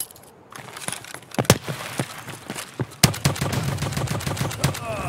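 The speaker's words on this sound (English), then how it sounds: "Still think I'm getting shot at." Gunfire in Escape From Tarkov, a scattered run of sharp cracks and bursts at varying distances, some near and loud, others fainter, rattling on in irregular clusters.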